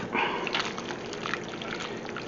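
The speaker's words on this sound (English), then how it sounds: "Now I'm going to get a little bit of the pasta water" Hot pasta water pours in a soft, continuous trickle into a bowl of egg and cheese mixture, close up and fairly quiet.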